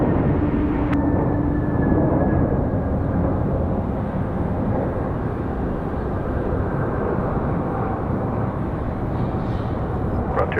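A plane landing on runway 23 right at Raleigh-Durham International Airport, heard as a continuous loud broadband jet roar that stays steady throughout, with a faint tone in the background.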